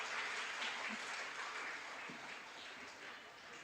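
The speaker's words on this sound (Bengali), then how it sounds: "প্রথমে আগে ছোটদের জন্য একটা জোরে হাততালি হোক" An audience applauds children after a staged performance of the musical play Kalmrigaya. The clapping is a soft, steady patter that sounds distant and fades slightly toward the end.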